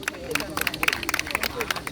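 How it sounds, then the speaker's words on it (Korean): Audience at an outdoor peace declaration event at Imjingak applauds, with scattered claps and crowd murmur mixed with voices. "수고하신 두 분에게 다시 한번 박수 부탁드리겠습니다."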